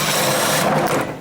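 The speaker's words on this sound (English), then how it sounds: "For drilling a hole? Yeah." A power drill whirs briefly while boring a hole during work on a square-body truck, a short close buzzing burst that tails off at the end.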